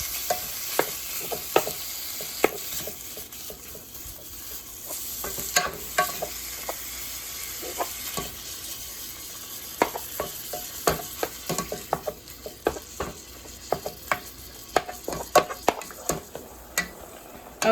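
Ground meat browning in a pot for old-fashioned American goulash: a continuous close sizzle punctuated by frequent sharp scrapes and clinks of a utensil stirring against the pot.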